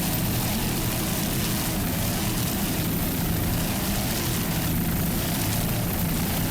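Engines of offshore racing powerboats passing during a Fort Lauderdale Grand Prix race, a loud, continuous droning roar that swells slightly as the boats motor by, with no voices over it.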